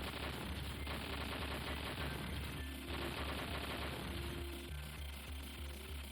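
Dense bursts of enemy machine-gun fire rattle almost without pause in a video game shootout before a boss fight, loud and continuous over several seconds.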